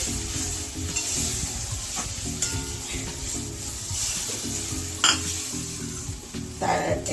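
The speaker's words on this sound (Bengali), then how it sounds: "এই যে এবারে জল দেবো, একটু ফুটবে" Egg curry bubbles and sizzles in a pan after water is added, with a continuous loud simmer, stirring scrapes and a couple of brief metallic clinks, heard up close without talk.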